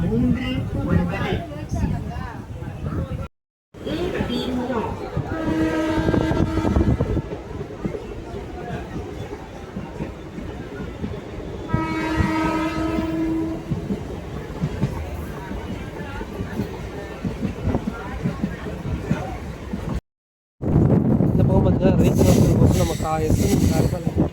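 A MEMU electric passenger train rumbles along steadily with wind buffeting the microphone, a rising whine of motors drifting in and out, and a voice speaking over it.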